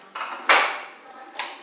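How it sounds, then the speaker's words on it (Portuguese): Dinner plates clatter as they are carried away after an evening meal at home, a few sharp ceramic knocks and scrapes in quick bursts with quieter rattling between them. "Agora eu vou levar aqui os pratos, gente."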